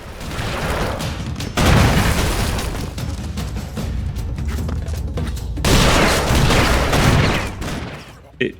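Loud, sustained gunfire and booming explosions from the video game Broforce, with dense rapid bursts that swell and ease in waves throughout.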